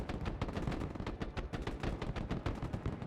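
Grenade launchers firing in the battlefield game Broken Arrow, a rapid, fairly even string of distant muffled thumps, about six per second, sounding quiet and continuous with no voices over them.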